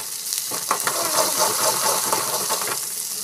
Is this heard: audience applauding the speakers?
no